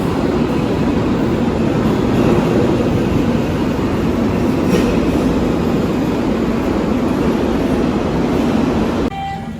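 A Rio de Janeiro subway train rumbles loudly and steadily into a station platform, its low roar filling the space before easing off abruptly at the end.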